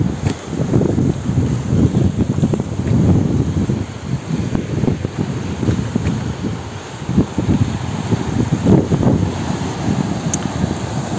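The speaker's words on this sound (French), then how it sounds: "Un petit peu de vent." Steady wind buffets the microphone, a continuous rumbling roar that gusts up and down for the whole stretch with no voices.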